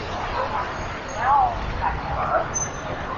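A dog brought along by shoppers barks a few times on a tree-lined shopping street on Wukang Road in Shanghai at dusk, short yips rising over street chatter and passing traffic.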